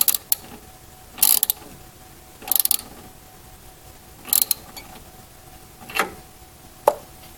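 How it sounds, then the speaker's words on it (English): Tightening the loose flange nut on a BRT7820 Trio-Trainer wheel with a wrench gives ratcheting bursts, about five separate clicky clusters spaced a second or so apart, each followed by a pause, close by and with no voices. "to tighten the nut"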